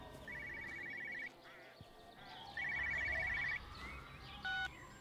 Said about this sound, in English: Oh, I hear another phone.